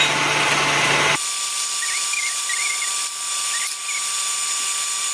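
Stand mixer whipping cream with a whisk attachment, a steady high motor whine with a whirring beater that shifts pitch as it runs, close and continuous.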